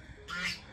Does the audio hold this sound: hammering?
no